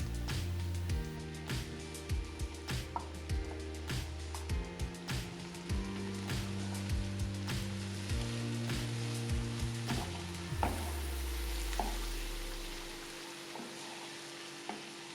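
A spoon stirring beef soup with tkemali in a pot, with repeated soft scraping and knocking strokes in an irregular rhythm over a low simmering background and a steady tonal hum that slides downward and fades.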